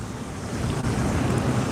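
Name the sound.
wind blowing by a river bank while fly fishing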